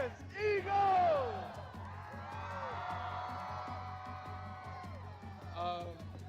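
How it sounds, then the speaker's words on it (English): Eagles fans chant and cheer in a large crowd, shouts and whoops rising and falling together, with a nearby voice speaking over the roar. "It's a hell of a crowd out here"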